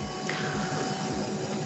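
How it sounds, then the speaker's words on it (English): Vacuum pump running in a membrane coating system, giving a steady, even mechanical hum and whir with no change in level, close and alone. "You can hear the pump running right now"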